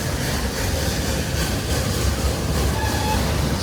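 A 124-year-old steam train runs through the redwood forest near Santa Cruz, California, crossing a tall trestle bridge. Heard from aboard, it gives a steady, close rumble with faint clatter of railcar wheels and no talking.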